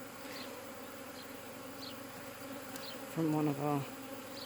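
Buckfast honey bees buzz steadily around a hive, a continuous close insect drone with one louder bee passing near the microphone toward the end, and a brief spoken phrase underneath.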